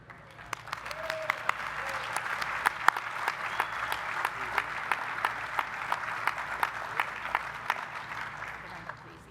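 An audience at an athletics hall of fame announcement applauds a hockey player inductee, steady sustained clapping from a crowd with sharp individual claps standing out, continuing evenly for the whole stretch.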